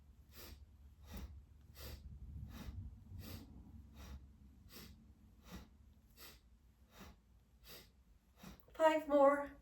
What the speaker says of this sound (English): we're going to breathe in and out through the nose